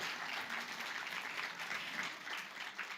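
Audience applause at the Hanaholmen Heritage Conference, a steady, fairly quiet wash of clapping hands held evenly for about three seconds with no break.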